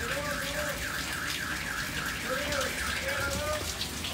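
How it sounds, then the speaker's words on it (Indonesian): Heavy rain pours steadily outdoors at a house, a constant close wash of water noise that never lets up, with a faint wavering tone running underneath. "Hujan kedengeran banget."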